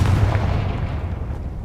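A Confringo fire spell from the Hogwarts Legacy video game bursts into a deep, booming explosion right at the start, its heavy low rumble rolling on and slowly fading over the next second and a half.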